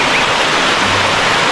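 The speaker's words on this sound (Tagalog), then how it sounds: "Dati mahina lang ang tubig na ito." Strong, fast stream swollen after a typhoon near Laurel, Batangas, roaring as a steady broadband rush of water that fills the whole short stretch, close and loud with no voices.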